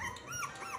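A young puppy in a kennel whimpers in thin rising and falling whines, two or three short cries, close and fairly quiet.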